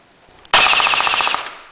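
Echo 1 M249 airsoft machine gun, run on an 8.4 volt battery, fires a single loud burst of about a second with rapid evenly spaced mechanical cracks, close and alone before stopping abruptly.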